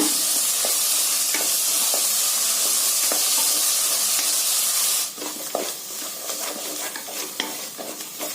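Half a teaspoon of ground coriander sizzling in hot oil in a pan, a steady loud frying hiss with intermittent stirring scrapes, the sizzle dropping somewhat partway through.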